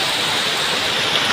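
Heavy rain pours down in a dense, steady hiss, loud and close with no breaks, heard alone for about a second.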